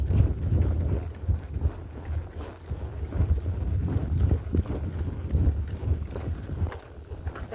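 Horse walking on a trail ride: soft, steady hoof thuds in an even walking rhythm throughout, close by, with rustling and wind buffeting the microphone.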